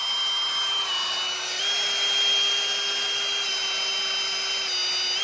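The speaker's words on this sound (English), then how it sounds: "Are you drilling this morning?" Steady high-pitched whine of a power drill running continuously during ball joint removal on a 1959 Ford Fairlane, with a slight pitch shift partway through, no talking.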